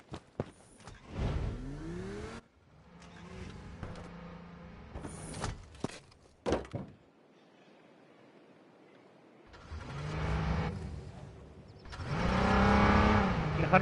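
Car engine in the video game H1Z1, an irregular run of revving and idling bursts with harmonic sweeps as the vehicle accelerates, pausing briefly before swelling loud again near the end.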